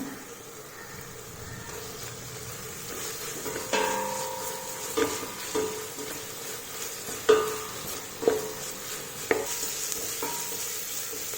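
Curry leaves, ginger, garlic and green chillies sauté in oil in a pan for prawn rice, with a steady soft sizzle broken by several sharp clinks and scrapes of a spoon stirring against the metal, and no voices.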